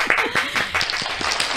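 A handful of people clap in short, uneven bursts, with a few distinct close slaps over a brief, modest round of applause.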